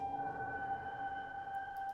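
The Free Foundations piano from Heaviosity, processed with Shimmer and Black Hole reverbs, sustains as a soft, steady drone of held tones with faint high glints near the end.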